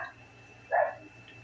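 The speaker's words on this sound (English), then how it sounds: "It's a dog. It barks." A single short dog bark from outside, muffled and somewhat distant, rises once above a steady low indoor hum during a NASCAR Heat 5 gaming session.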